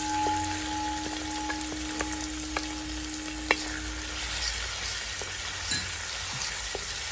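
Ginger fries in a pan as it is stirred, producing a constant close sizzle with occasional sharp clicks of the spoon against the metal.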